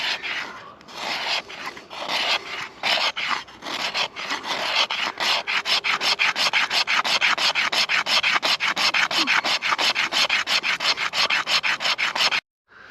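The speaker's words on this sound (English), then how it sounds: "the back of the saw blade almost makes these really fine, fluffy wood shavings" A saw blade's back edge scrapes along wood to raise fine, fluffy shavings for fire tinder, a close, steady rasping in rapid repeated strokes that stops abruptly near the end.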